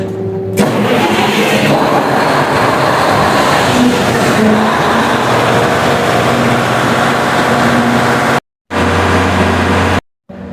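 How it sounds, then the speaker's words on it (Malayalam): A generator engine cranks and catches, then settles into a loud, steady running drone close by, briefly cutting out near the end. "നമ്മൾ മാനുവലാക്കി സ്റ്റാർട്ട് ബട്ടൺ കൊടുത്തു കഴിഞ്ഞാൽ പിന്നെ ജനറേറ്ററിൻ്റെ സൗണ്ട് ആയിരിക്കും."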